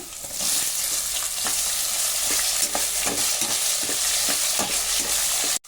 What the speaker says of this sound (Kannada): ನೋಡಿ ತೊಂಡೆಕಾಯಿ ಎಲ್ಲ ಚೆನ್ನಾಗಿ ಎಣ್ಣೆಲಿ ಫ್ರೈ ಆಗಲಿ